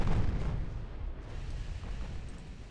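Naval gunfire strikes an enemy battleship in the Ultimate Admiral Dreadnoughts game, heard as a muffled, rolling low boom at the start that fades into a dull rumble.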